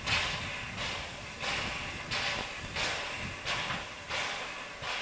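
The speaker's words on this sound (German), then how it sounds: "Um 13 Uhr soll dieser Zug losfahren." Narrow-gauge steam locomotive on the Cranzahl–Oberwiesenthal line in Saxony, 1994, puffing loudly up close in a steady chuffing rhythm, about seven strong exhaust beats with hiss between them and no talk.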